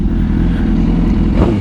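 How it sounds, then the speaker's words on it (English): A Suzuki GSX-R motorcycle with a Brock's Performance full-system exhaust rumbles close and loud, a brief gritty throb with a slight rise near the end. "There is nothing like the sound of a Brock. Pops has a Brock's Performance exhaust on his full system"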